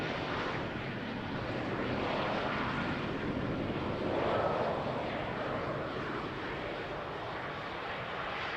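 An Embraer airliner lands at Amsterdam Schiphol, its engine roar a steady broadband rush that swells briefly mid-way and holds loud throughout, with no voices.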